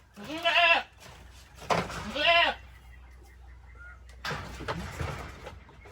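A pig gives loud, drawn-out squeals in several bursts while being held for an injection, with people talking nearby.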